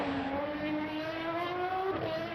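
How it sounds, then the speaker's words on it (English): V12 race car engine in the Le Mans Ultimate racing game, a loud steady high-revving drone with rising harmonic pitch as it accelerates, then a brief gear change near the end, heard alone. "And that V12 sounds absolutely stunning."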